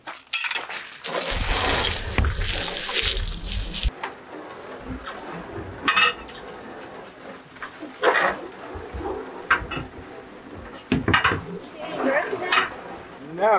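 Water sprayed to rinse the top of an IBC tote, a broad hissing splash for a few seconds followed by intermittent splashes and clinks, with people talking in between.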